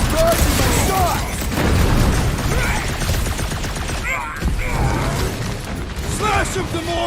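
Gunfire in the Guardians of the Galaxy video game, with rapid bursts of shots and mechanical clatter layered over booming combat noise, while characters talk throughout.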